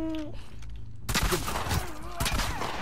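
Shotgun blasts in The Last of Us Part II: two loud, broad bursts about a second apart, each trailing off into a rough tail, with voices talking over the fight.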